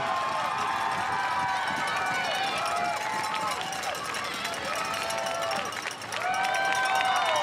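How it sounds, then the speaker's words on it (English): A crowd at a Red Bull Joyride 2023 mountain bike slopestyle event cheers and applauds a rider, a continuous roar of distant clapping and shouts that swells and dips, with a commentator talking over it. "the crowd really getting behind Torquato Testa"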